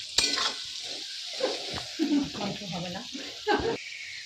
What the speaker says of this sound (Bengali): এইদিকে দেখো শাক ভাজছে